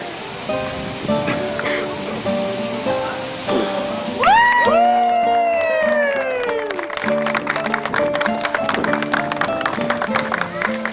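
A crowd bursts into a long rising whoop, then settles into dense, sustained applause and cheering that keeps going to the end.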